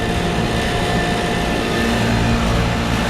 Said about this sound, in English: Both our fans are running.